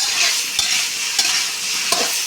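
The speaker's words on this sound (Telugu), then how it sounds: "ఏ కర్రీకైనా కానీ ఇట్లా బెండకాయలు వేయించుకోవాలి" Okra frying in oil in a pan, a steady sizzle broken by three distinct stirring scrapes spaced about half a second apart, close and fairly loud with no voices.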